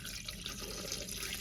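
Tap water runs steadily into a container while bunny Jello is being made, a continuous hiss alone with no talk.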